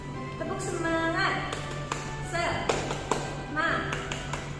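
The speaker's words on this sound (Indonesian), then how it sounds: "Tepuk semangat." Children in a fifth-grade class perform a rhythmic clapping game called tepuk semangat, with a few sharp patterned claps and taps mixed with speaking voices.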